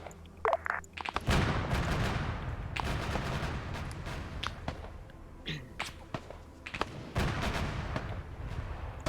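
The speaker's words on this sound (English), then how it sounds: "So you hear that Gepard firing now." Rapid cannon bursts from a Gepard self-propelled anti-aircraft gun in a Cold War West German combat game, loud, dense repeated volleys filling most of the stretch with brief gaps between bursts.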